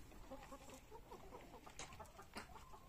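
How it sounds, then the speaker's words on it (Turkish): Lohmann hens cluck in a coop on a free-range chicken farm, with steady overlapping clucks and murmurs from several birds and a few sharper calls rising above the continuous flock noise. "Burada bir 50 adet lohman var."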